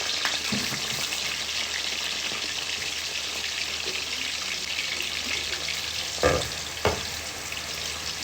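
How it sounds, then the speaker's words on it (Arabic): Potatoes deep-fry in hot oil with a steady, dense sizzle that holds even and loud from start to finish, broken by a couple of brief clunks near the end, with no one talking. "كده سيبنا البطاطس تتحمر"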